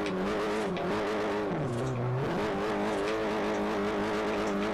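A Nissan Silvia Spec R in the Forza Horizon video game spins through drift 360s, its engine droning steadily with a pitch dip and recovery mid-spin and tire squeal, loud and continuous.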